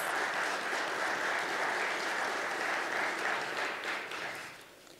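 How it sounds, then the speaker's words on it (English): Steady, full applause from the audience at the inaugural assembly of an Ethio-American chamber of commerce, held in a college venue. The dense clapping lasts several seconds before fading out toward the end. "So please give yourself a round of applause."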